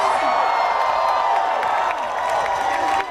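Rally crowd at a Temple University grad student union strike on the Philadelphia campus, loud sustained cheering and clapping with whoops, filling the whole stretch before dropping off at the end.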